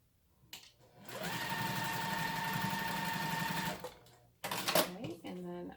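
A sewing machine joins quilt rows for a shamrock wallhanging, humming in a steady close whirring run for about three seconds, then stopping before a brief second burst while a person talks nearby.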